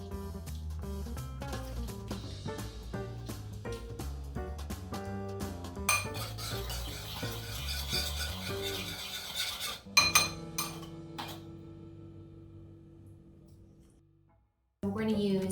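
A spoon clinks and scrapes against a bowl as lime juice is mixed into a sauce with shallots for Thai crying tiger beef. Irregular close metallic taps ring through the mixing, then quiet down before a louder burst at the end.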